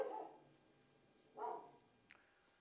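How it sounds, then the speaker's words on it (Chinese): Dog barking in an old house in a quiet, largely abandoned Guangdong village, the animal shut indoors; two muffled barks a moment apart, then a brief faint yip, with no talk. "係一味聽到狗叫聲"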